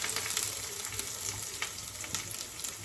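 Fresh curry leaves and a ground paste mix dropped into hot oil in a pan for a thoran, a dense, constant close sizzle with faint stirring taps underneath and no talking.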